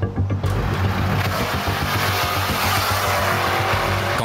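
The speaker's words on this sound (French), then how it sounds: "On fait fumer les pneus." A street-racing car does a tire-smoking burnout in Los Angeles, its engine roaring loud and close beneath a sustained, harsh tire squeal that starts abruptly and runs without letup.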